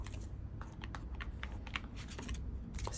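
An Ostara tarot card deck is shuffled close by, a quick run of crisp papery clicks and riffles with no talking.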